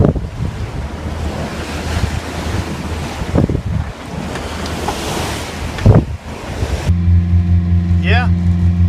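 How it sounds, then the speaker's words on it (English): A sailboat motoring through really choppy seas, heard from below deck in the V-berth with a steady roar of wind, water and engine, several thuds as the hull bounces off waves, then a steady engine hum. "There we go, we just bounced off a wave."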